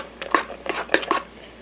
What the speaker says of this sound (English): I'm gonna stir this.